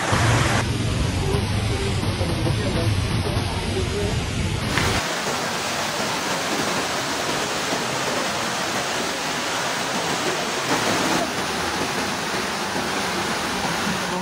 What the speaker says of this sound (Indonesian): ini luapan Sungai Kalerang yang ada di Jembatan Apel.